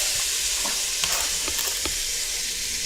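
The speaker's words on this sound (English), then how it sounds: "Let's hear that sizzle" Loud, steady sizzling of chicken frying for curry in a hot pot, a constant hiss with occasional crackles and pops.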